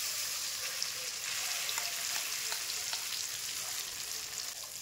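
Green pea paste fries in oil in a kadai seasoned with black cumin and asafoetida, giving a steady, close, even sizzle with light crackles and no voices.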